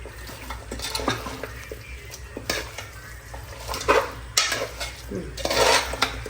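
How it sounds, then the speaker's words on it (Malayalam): Small chicken pieces stirred in a hot pan, steady frying sizzle with a utensil repeatedly scraping and clinking against the metal, close and fairly loud. "ചെറിയ പീസസ് ആക്കി എടുത്തേട്ടോ ചിക്കൻ നന്നായിട്ടൊന്ന് ഇളക്കണേ"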